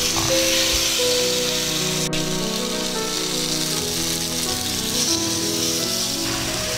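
Marinated turbot searing in avocado oil in a cast iron pan over medium-high heat, giving a steady close hiss and crackle of frying that runs on without a break and with no talk.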